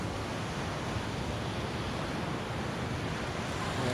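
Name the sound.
strong ocean waves on the shore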